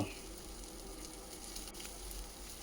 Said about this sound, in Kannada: ಪ್ಯಾನಲ್ಲಿ 2 ಸ್ಪೂನ್ ಎಣ್ಣೆ ಹಾಕ್ಬಿಟ್ಟು ಇವಾಗ ಫ್ರೈ ಮಾಡ್ತಾಯಿದ್ದೀನಿ